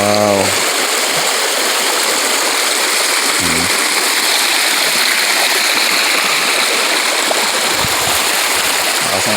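A strong river current rushes and gushes continuously at close range, a dense steady roar of flowing water filling the whole span, with a brief voice at the very start.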